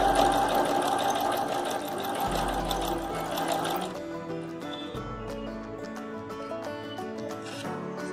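A sewing machine runs steadily, stitching three dupatta pieces together in a boutique-style home project, its needle rattling at an even pace that briefly stops and restarts partway through, with no voices over it.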